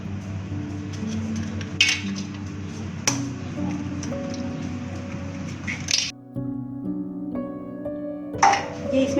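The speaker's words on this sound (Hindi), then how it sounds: "ये मैं 2 अदद अंडे फेंट रही हूँ।" Two eggs are beaten in a bowl, with quick clinking taps of the utensil against the dish over a low steady background hum, a brief pause partway through, then more close clicks.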